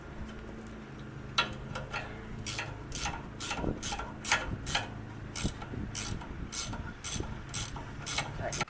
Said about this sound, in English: Now you can let go of that and tighten it up with a wrench or something.